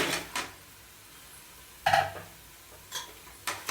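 A spoon clinks and scrapes against a pot while chicken with mint and coriander is stirred and sautéed for Chettinad chicken biryani, a few separate metallic knocks spaced apart over a quiet kitchen background.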